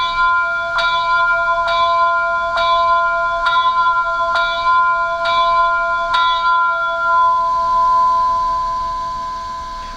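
A bright, metallic bell from a Rapido Trains Royal Hudson model steam locomotive strikes steadily about once a second for several seconds, each ring sustaining and overlapping, then a lingering tone fades out.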